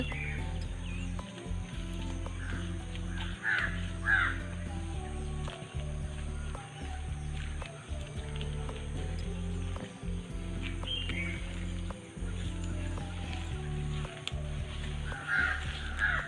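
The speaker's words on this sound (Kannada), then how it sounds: "ಹಳ್ಳಿಯಲ್ಲಿ ಮಾತ್ರ ಇಂಥ ನವಿಲುಗಳ ಒಂದು ಇಂಪನ ಹಾಗೆ ಹಕ್ಕಿಗಳ ಒಂದು ಸ್ವರ ಮಾಧುರ್ಯ ಎಲ್ಲ ಕೇಳ್ಬೋದು" Birds call around a village, with crow-like caws and scattered chirps rising over a low steady hum in the background.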